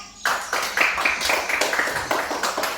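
A class of students claps for the anggrek group during a school lesson, a steady patter of hands close by with no voices over it.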